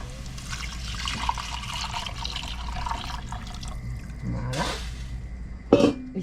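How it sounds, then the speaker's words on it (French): Filtered broth poured into a pot of vegetables in a home kitchen, a steady liquid splash running throughout, with a brief clatter near the end. "Et maintenant on va rajouter mon bouillon que j'ai déjà filtré tout à l'heure."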